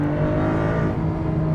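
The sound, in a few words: Porsche 911 992.2 Carrera S flat-six engine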